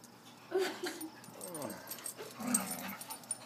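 An Australian shepherd herds a pit bull, with quiet dog whimpers and short yips rising and falling over a few seconds at a moderate distance.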